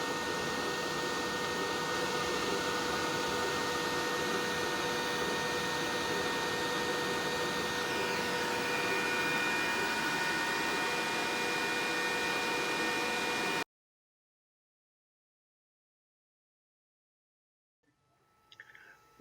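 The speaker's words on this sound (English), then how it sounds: "And here you see the laser engraver cutting the design into our wooden piece that we had cut out on the CNC." A laser engraver cuts a design into a wooden piece in a makerspace, giving a steady, fairly loud whirring hum with faint tonal whine for about thirteen seconds before it cuts to silence, then a brief faint rustle.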